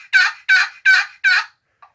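A wooden turkey box call worked by hand to imitate a turkey, four rapid raspy scratchy yelps in an even rhythm followed by a faint short squeak, loud and close with no talking.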